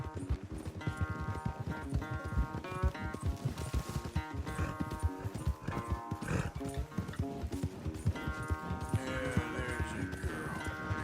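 Horses gallop in a race in Red Dead Redemption 2, steady rapid hoofbeats thudding throughout over game music, with occasional snorts.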